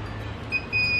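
A multimeter gives short high continuity beeps while probing a Polytron 14-inch TV circuit board, two close clear tones over a low background hum.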